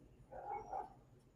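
Dog barking indoors in a room, a few quiet yips and woofs in quick succession at moderate distance, fairly faint overall.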